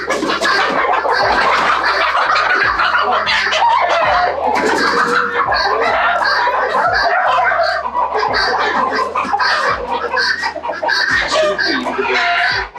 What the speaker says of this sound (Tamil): இது ஒரு வெரைட்டி, ஃபேன்சி வெரைட்டி கோழி.